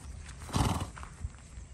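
A mare on a ranch neighs in a loud burst near the middle, with a few hoof clops around it against a soft outdoor background.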